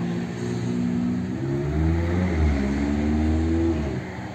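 A Maserati's engine revs up and settles, a loud, close, rumbling tone rising in pitch through several steps and then dropping away, with no voices over it.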